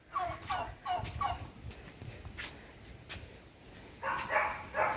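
A turkey gobbles outdoors at a moderate distance in a few short bursts, with a later louder burst, over faint background noise.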